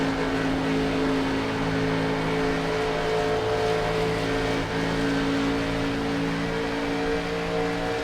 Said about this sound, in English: these guys are racing it up hard right now.